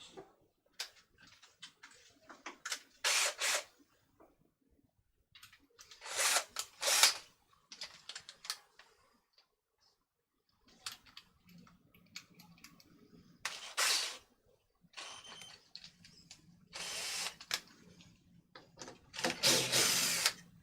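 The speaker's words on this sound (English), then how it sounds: "Let's just stick that there so I can take the screws out." A power drill backing out screws whirs in short, repeated bursts with quiet gaps between them. The bursts sound fairly faint, with light clicking and handling noises in between.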